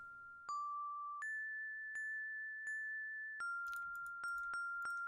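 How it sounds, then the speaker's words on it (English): Bells in Quest for Glory 4 ring in a sequence of clear, bright tones, each struck note sustaining into the next, with a faster flurry of chimes near the end, alone and moderately faint. "Can we be done with the bells, please?"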